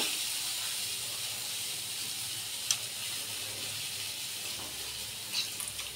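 Sweet potato frying in ghee for a kheer gives a steady, soft hiss and sizzle close by, with a couple of faint pops and no talking over it.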